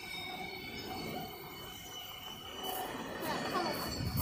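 A freight train passes at a moderate distance, a low rumbling roll of wagons with faint metallic wheel squeal that swells slightly toward the end.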